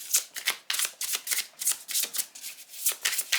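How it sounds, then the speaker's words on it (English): Oriens Tarot cards being shuffled by hand close to the microphone: a rapid series of crisp riffling bursts, about a dozen in quick succession, each a papery flutter with short gaps between, alone without talk. "I hope you can hear the nice shuffling noise they make."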